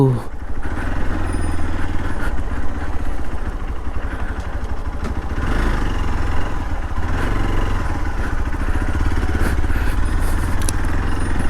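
A motorcycle engine drones steadily while riding along a rough road, with rattling and clatter over bumps, close and loud throughout.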